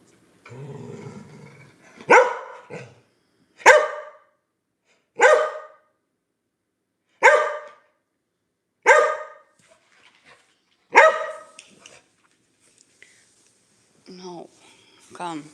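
Several dogs bark in sharp, evenly spaced single barks, loud and close, with a brief muffled voice at the start and faint whimpers near the end.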